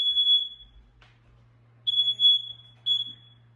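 A smoke alarm emits sharp, high-pitched electronic beeps, three in all, with gaps between them over a faint low hum.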